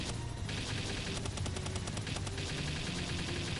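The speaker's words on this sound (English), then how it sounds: "I need to be constantly shooting him every second there is" Rapid automatic gunfire from a boss fight in the video game Palworld, dense and continuous bursts of loud shots with battle noise layered underneath.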